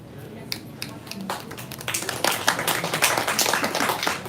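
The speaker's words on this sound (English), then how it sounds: "You don't have to clap after each one" Audience at a live poetry reading breaks into clapping after a poem, starting with a few scattered claps and building into steady, moderately loud applause from a small crowd indoors.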